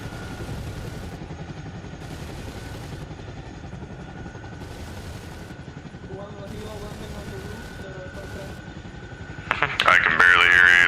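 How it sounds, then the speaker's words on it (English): Helicopter flying in the video game Arma Reforger, a steady loud rotor and engine drone throughout, joined near the end by a burst of sharper, brighter noise. "I can barely hear you, this heli's loud."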